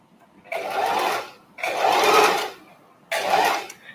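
A sewing machine stitching small fabric scraps together, three bursts of steady fast whirring chatter separated by short pauses, close and clear with no talk over it.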